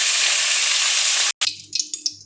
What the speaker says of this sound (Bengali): এর মধ্যে আমি গাঠি কচু আর আলু দিয়ে দিয়েছি। এবার এগুলোকেও আমি ভেজে নেব।